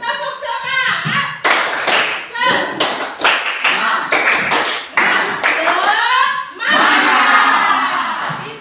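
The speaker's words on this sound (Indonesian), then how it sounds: "Tepuk semangat." Schoolchildren perform a clapping chant in a classroom, a series of loud, rhythmic claps and taps mixed with shouted voices, ending in a burst of cheering.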